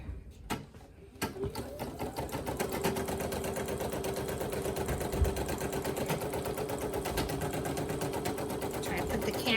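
An embroidery sewing machine stitching an appliqué satin stitch hums in a fast, even, continuous needle rhythm after a few starting clunks, close and steady throughout.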